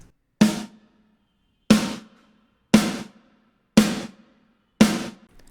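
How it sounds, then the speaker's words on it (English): Five punchy snare hits, each with a short burst of reverb that is chopped off abruptly, spaced about a second apart and played alone. "one thing to note here is the usage of gated snare"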